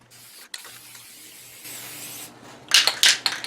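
Hissing bursts of finish sprayed onto a large maple wooden vase start and stop over a faint background hum, growing louder and harsher in two strong bursts toward the end.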